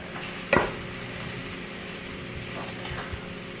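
Spices with coriander and red chili powder are stirred into a frying egg keema masala, a sharp spoon clack opening a soft continuous sizzle with faint scraping strokes, close and unaccompanied by speech.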